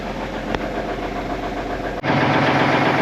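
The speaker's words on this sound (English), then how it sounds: "So it's got this switch, so if I hit it, now she's fast idled." An old K100 truck's Cummins diesel runs at a steady, rhythmic idle, then a fast-idle switch clicks and the engine note jumps to a louder, quicker chug, recorded up close.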